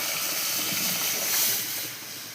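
Cooked dal poured into a hot tempering sizzles loudly with rising steam, a close, continuous frying hiss that swells midway and then eases off.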